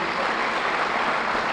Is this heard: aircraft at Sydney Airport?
no